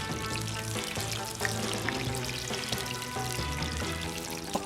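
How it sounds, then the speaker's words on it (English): A steady, dense crackle and bubbling of tempura mushrooms frying in hot oil on a balcony, close up and continuous, with small pops throughout. "Oh, they are definitely frying."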